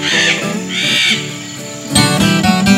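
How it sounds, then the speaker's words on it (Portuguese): Loud, harsh calls of Pantanal birds ring out in bursts, several raucous squawks close by with brief pauses between them. "As aves pantaneiras dão show de beleza e fazem muito barulho."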